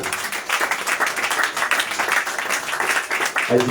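A church congregation at a ladies' celebration day gives a steady, continuous round of dense applause, loud and close, with voices mixed in and a brief sound change near the end.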